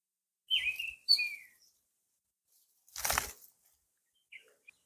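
A red-crested bulbul calls near its roadside nest: two bright chirping phrases close together, then a short rustle like wing flaps, followed by a few faint, brief chirps.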